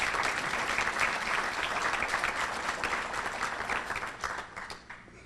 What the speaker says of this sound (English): Sean, would you and your group please stand for a round of applause?